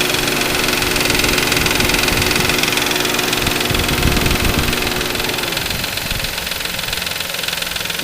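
A Nissan Quest 3.5 V6 engine with a noisy timing chain, heard up close as a steady idle with a fast metallic rattle and ticking running continuously, no talking.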